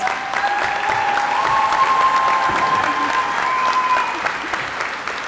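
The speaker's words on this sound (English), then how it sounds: "Let's give her another round of applause." A commencement audience gives sustained applause, a dense, steady wash of clapping from a large crowd throughout, with faint tonal sounds and murmuring beneath.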